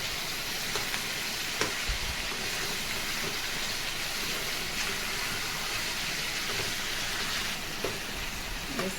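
Chicken pieces frying in a pan with salt and chili, a steady close sizzle and crackle running the whole time with a few light stirring clicks, no voices.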